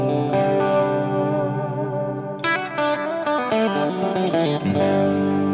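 An electric guitar plays sustained chords and then a run of notes through a Fractal FM3 effects unit on a clean setting, with a shimmering, slightly chorused, echoing tone.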